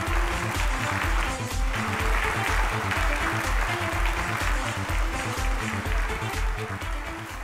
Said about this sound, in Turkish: Alkışlarınızla Emel Güneş hanımefendi sahneye geliyor.